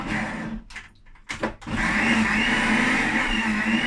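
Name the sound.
blender mixing parsley spread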